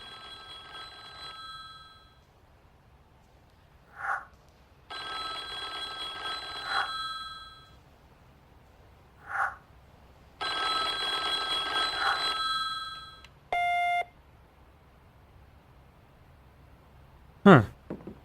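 An old-style telephone bell rings in bursts in the video game The Da Vinci Code, with about four loud rings separated by pauses and brief short sounds between them, followed by a quick electronic beep and a closing click.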